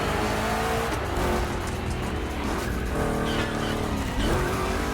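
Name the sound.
two big-block Chevy cars drifting in gymkhana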